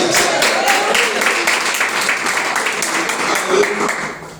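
A congregation at a Portuguese-language church service claps for Jesus, a rhythmic, steady round of applause that tapers off slightly, with a voice speaking over it.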